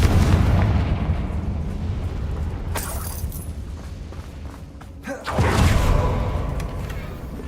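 Confringo fire-blast spell explosions in the video game Hogwarts Legacy, heavy booming blasts with crackling bursts around three and five seconds over a constant low rumble of game ambience, loud and full.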